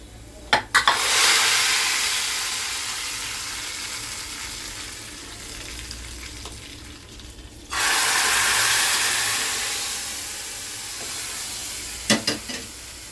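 Hot tadka of browned onions poured into urad dal sets off a loud, close hiss that swells at once, fades over several seconds, then flares again in a second long sizzling burst, with a few sharp clinks of the pan and no talk.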